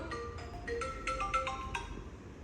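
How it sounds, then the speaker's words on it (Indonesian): A phone rings with an incoming call, playing a melodic ringtone of bright repeating tones in a quick rising and falling pattern, quiet and steady against a low background hum. "Ada telepon."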